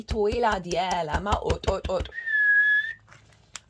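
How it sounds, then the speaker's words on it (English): A person talks briefly, then a single clear, sustained whistled tone rings out for about a second before fading to quiet. "Oh, they're whistling a lot with you"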